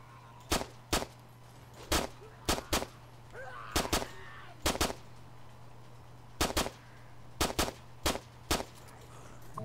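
Single pistol shots ring out in the Arma 3 PC game with the exile and zombie mod, sharp and loud. They fall in uneven pairs and singles, about a dozen in total, over a steady low hum.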